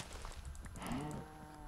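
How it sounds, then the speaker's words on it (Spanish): Cows moo outside in a modded video game, a faint low lowing call swelling in the middle against quiet game background noise. "Mira, aquí hay vacas fuera"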